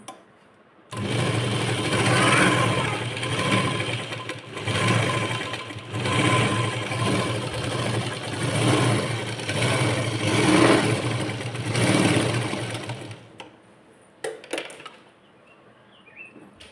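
Sewing machine stitching a sleeve lining, a steady mechanical whir running continuously for about twelve seconds with slight surges, then stopping, followed by a few faint clicks and handling sounds.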